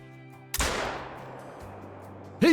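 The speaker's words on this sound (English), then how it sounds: "First big buck with a 12 gauge over under shotgun." A single loud 12 gauge over-under shotgun blast in the hunting game Call of the Wild, a sharp crack followed by a long decaying rumble, then a voice speaks briefly.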